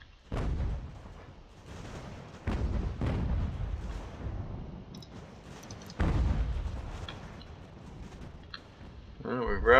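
Massed artillery in a Ultimate General American Revolution battle for Boston: repeated deep, booming cannon blasts with long rumbling tails, several heavy volleys spaced a few seconds apart, loud and close, with a voice talking over them.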